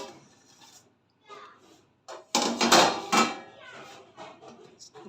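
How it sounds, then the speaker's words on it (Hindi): A metal pot lid lifts off chicken biryani cooking on dum: a few clinks and a bright clattering burst of metal on metal, with soft rustling before and after. "अब हम खोलते हैं अपनी बिरयानी का दम"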